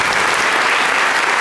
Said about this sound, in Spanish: Queremos repetir con más fuerza el aplauso para el profesor Leandro Gómez.